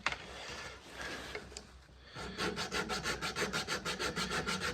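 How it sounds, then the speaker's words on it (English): Sanding on a wooden guitar neck dovetail: a few irregular rubs at first, then a brief pause, then a quick run of rhythmic back-and-forth strokes, close and fairly quiet. "we'll do a little bit of sanding here just to refine it."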